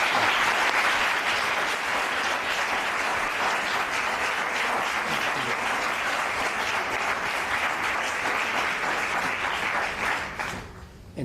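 Sustained applause from an audience farewelling Nelson Valente after an interview on new interactive stage formats, even and full for about ten seconds before quickly thinning and dying away near the end.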